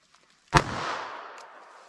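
A single .32 ACP pistol shot fired with Federal American Eagle FMJ ammunition cracks sharply and fairly loud, followed by a long fading echo.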